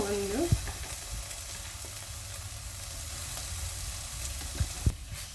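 Tomato sauce going into a frying bread snack in a pan, a quiet steady sizzle with a few sharp spoon knocks and scrapes as it is stirred, no talking.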